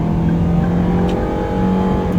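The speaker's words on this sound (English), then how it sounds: "the engine gets rough at high revs" A Perodua Aruz small car engine revs hard and steadily at high revs, a continuous rough, buzzing drone with no voices.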